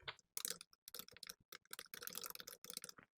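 Rapid keyboard typing while entering WordArt text in PowerPoint 2016, a dense run of close, crisp key clicks with short pauses between bursts and no talking.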